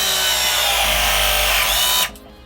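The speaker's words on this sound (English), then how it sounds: "this is a ProPress machine, and it makes the job easy" A ProPress machine crimping pipe fittings while a gas water heater is installed, giving a loud, steady motorized whine for about two seconds before it cuts off, close up with no talking.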